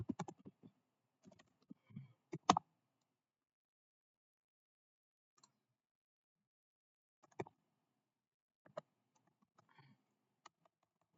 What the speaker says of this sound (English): I'm going to type the main function now